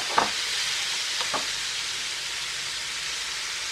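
Raw banana pieces fry on a hot tawa with a steady, bright sizzle, broken early on by two or three short clicks of pieces landing or being moved, with no voices.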